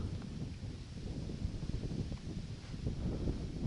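Steady wind buffets the microphone outdoors on a shore while spin fishing for pike, a rough low rushing roar with gusty bursts and no other clear sounds.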